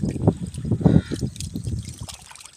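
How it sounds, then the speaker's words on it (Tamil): Fish being washed by hand in running stream water, with close trickling, splashing and sloshing in uneven bursts that grow fainter toward the end. "ஓட தண்ணில் எப்படி கழுவிட்டு இருக்கோம் பாருங்க"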